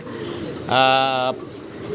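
A single pigeon at a pigeon farm gives one clear, sustained coo lasting under a second, close and loud, with soft background noise before and after.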